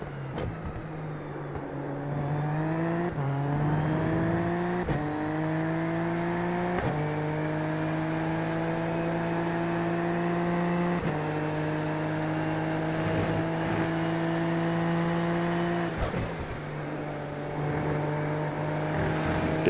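Onboard a Super Formula Lites race car in a circuit race, the engine loud and steady as it climbs through the revs in repeated upshifts, each gear change cutting the pitch before it rises again, with no talk.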